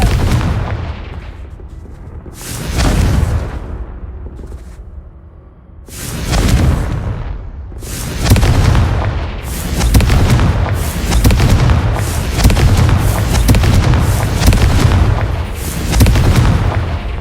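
Confringo spells explode in Hogwarts Legacy as loud booming blasts: two separated bursts, then a rapid string of heavy explosions with no pause between them.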